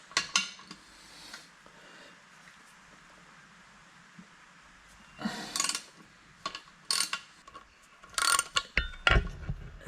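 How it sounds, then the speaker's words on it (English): A socket wrench with a deep 12mm socket ratchets a 12mm bolt out of a Yamaha outboard during an impeller change, in short bursts of quick clicking that come more often in the second half, fairly quiet and close. "A deep 12mm socket up in there to get that 12mm bolt out"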